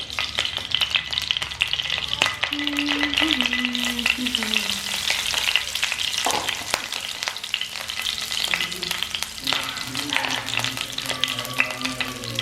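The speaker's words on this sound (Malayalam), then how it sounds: "കടുക് വറുക്കാം കുറച്ച്" Mustard seeds fry in native coconut oil for an Eid beef roast, giving a steady, loud sizzle with dense crackling and popping throughout and no talking.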